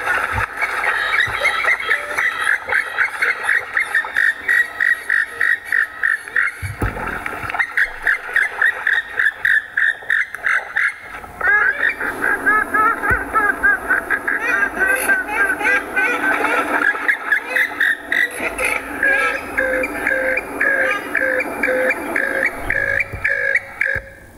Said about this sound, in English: This is the sound of the purple swamphen.